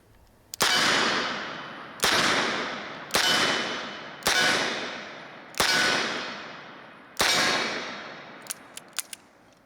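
Six loud shots from a Smith & Wesson Governor revolver, an internal lock model, fired outdoors at steady intervals of just over a second, each with a ringing decay, followed by a few faint clicks. There is no talk.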